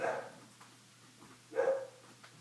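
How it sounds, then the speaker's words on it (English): Dogs bark twice outdoors, a short distance off, with one bark near the start and another about a second and a half later, over a low background hum. "We got dogs barking in the background."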